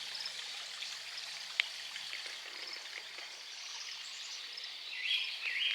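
A garden pond waterfall fed by a pump runs with a steady, soft trickling and splashing, faint and continuous throughout, with no voices present.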